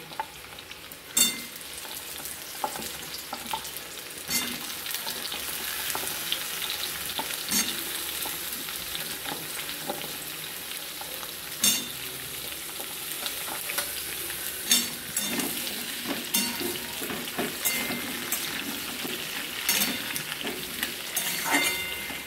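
Pointed gourd and potato frying in a pan with pumpkin going in: a steady sizzle close up, broken by repeated sharp clinks and scrapes of a spatula against the pan, with no voices.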